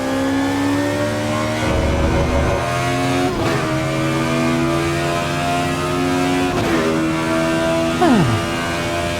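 A race car engine in the Assetto Corsa Evo racing game, drifting wide through a corner, holds a loud, steady high-pitched drone with harmonics that rise and fall as revs shift, plus a brief pitch dip near the end.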